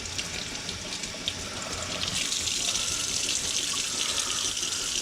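Water runs steadily from a tap into a plant propagation container and spills over its rim, a continuous close splashing rush that grows fuller and louder partway through.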